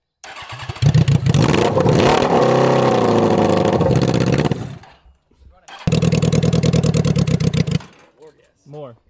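A 650cc racing lawnmower engine revs hard and accelerates, loud and close, with a rising whine; after a short drop it roars again through repeated throttle pulses, while voices speak over it.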